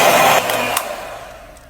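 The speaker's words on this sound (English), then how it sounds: "Beat well with the mixer to fully incorporate the cocoa powder." An electric hand mixer whirs as it beats cocoa powder into whipped cream, a steady close motor whine that is loudest at first and then eases and fades over under two seconds.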